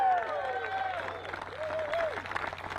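Crowd at the DGPT disc golf championship finals applauding, a steady wash of clapping with some cheering, heard under a sustained tonal voice or whistle-like sound that rises and falls.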